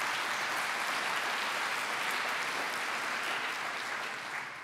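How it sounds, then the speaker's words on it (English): A round of applause from the audience at a summer symposium, dense, even clapping held at a steady level for several seconds before it begins to fade. "So if you could give them a round of applause as well,"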